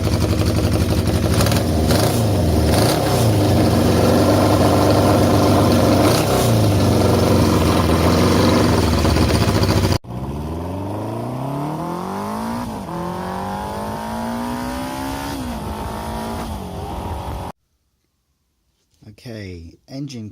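A slightly smoky 1973 Honda CB350F motorcycle engine runs loud and close at a steady idle, then revs rise and fall in repeated sweeps before cutting off to near silence, with a few faint sounds at the very end.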